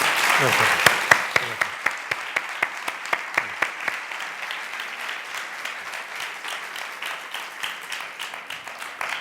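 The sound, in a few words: audience applause welcoming the guest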